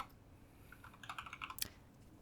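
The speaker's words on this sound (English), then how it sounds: "I'm distracted because Nirav's typing" A computer keyboard clicks in a quick burst of light typing, a dozen or so faint keystrokes ending in one sharper tap, heard alone against a quiet background.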